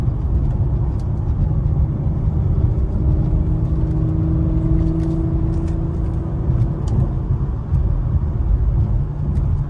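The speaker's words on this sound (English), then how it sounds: "The sound is awesome. I mean, it sounds like an F1 car." A 2018 Porsche Macan GTS accelerates, its engine a loud, steady low roar with a rising whining tone sustained close throughout.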